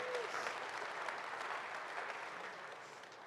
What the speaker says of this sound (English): Keep that round of applause going.